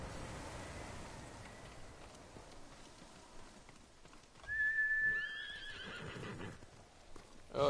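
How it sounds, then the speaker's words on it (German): Horse in Ghost of Tsushima gives a clear whinny midway, over rain and soft hoof clip-clops, with a further snort at the end. "Ist ein braves Pferd"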